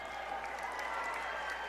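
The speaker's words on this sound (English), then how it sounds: "And the crowd erupts on this one." Spectators at a high school basketball game break into sustained applause and cheering after a close victory, a steady wash of clapping heard from a distance at low volume.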